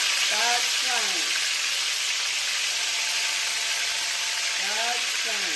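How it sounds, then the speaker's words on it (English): Oxtail pieces fry in hot oil, a loud, dense, steady sizzle that fills the whole stretch, with a voice speaking briefly over it near the start and again near the end. "Start frying."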